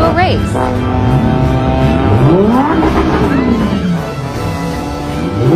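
A Lamborghini engine revs hard, pitch climbing and falling through repeated sweeps with a loud, close, sustained roar and a brief squeal-like edge.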